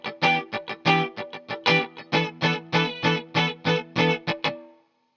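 Electric guitar strumming a funk rhythm, a tight two-bar pattern of crisp, choppy chord stabs with short muted gaps, played alone and ending in a brief ringing chord.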